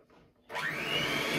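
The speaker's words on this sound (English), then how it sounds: "let's get this whisked until it turns into a nice, well, solid whipped cream" An electric whisk starts up after a quiet moment and runs steadily, whipping cream for a chocolate and strawberry gateau at home; a loud, continuous whirring hum that holds to the end.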